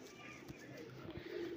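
A golden high-flyer pigeon gives soft, low coos, a few brief calls heard close and faint over a quiet background.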